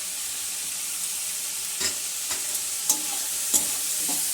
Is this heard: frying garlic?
yes